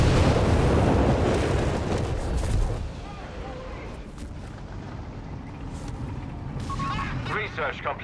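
Artillery barrage in the Company of Heroes 3 strategy game, with a loud rumbling run of blasts up front that eases to a lower, steady battle din, and scattered sharper bursts near the end under a commentator's voice.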